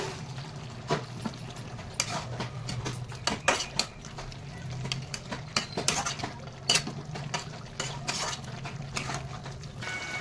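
A utensil stirs fish bones with cumin and chili powder in a pan, making repeated metallic scrapes and clinks over a soft frying sizzle, close and fairly loud.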